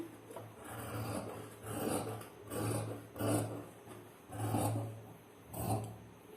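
Scissors cutting through two stacked layers of blouse fabric, a series of about six rhythmic rasping snips, close and fairly quiet, each swell followed by a short gap.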